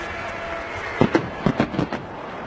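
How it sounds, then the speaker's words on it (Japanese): Fireworks going off at a baseball home-opener ceremony in a stadium, a quick cluster of about six sharp pops and bursts within roughly a second, set against a steady crowd and venue ambience. "そして花火も打ち上がって2023ホーム開幕、そのムードは今最高潮に高まるところです。"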